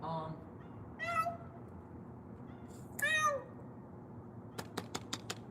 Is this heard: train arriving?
no